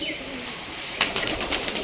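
A pet pigeon takes off, a short burst of wing flapping about halfway through, following quiet ambience.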